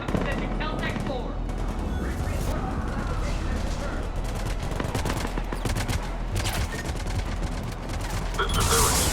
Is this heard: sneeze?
no